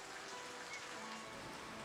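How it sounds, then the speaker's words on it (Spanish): Steady, even rain falling in the building game Foundation, a continuous dense hiss of drops without pause, moderately loud and heard alone. "La lluvia sigue y sigue y sigue."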